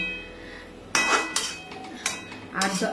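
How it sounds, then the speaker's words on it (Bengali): Egg biryani being stirred in a pot, with a few distinct metal scrapes and clinks of a spoon against the pot's sides and bottom, close and fairly quiet, spaced over a few seconds. "একবার নাড়া দিয়ে দিলাম, যে নিচে লেগে গেলে তার জন্য নাড়া দিয়ে দিয়েছি।"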